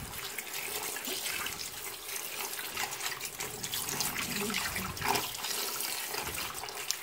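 Tap water runs steadily into a sink while a dyed polyester dress is rinsed under it, giving a continuous close splashing and gurgling without talk.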